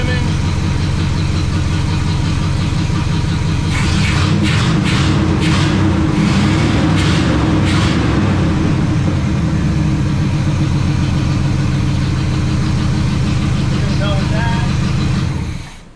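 A low-compression engine idles steadily with a loud, even chugging and some knocking texture. A short burst of higher clatter sounds midway, and the sound cuts off at the end.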